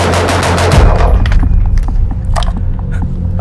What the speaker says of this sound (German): Hast diesmal sogar 13er Splits geschossen.